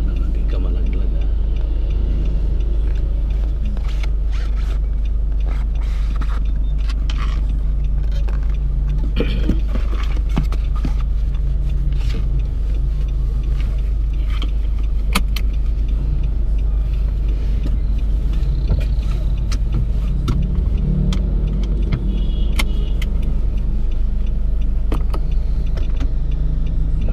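Noisy car heard from inside the cabin, a constant low engine rumble with faint ticking and belt noise from underneath, steady throughout while people talk over it.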